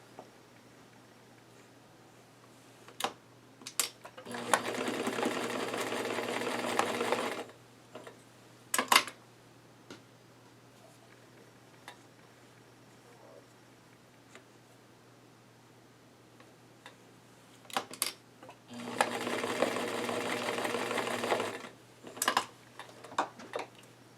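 A sewing machine chain-stitching the shoulder seams of a garment, front to back, in two steady runs of a few seconds each separated by quiet handling and faint clicks, moderately close.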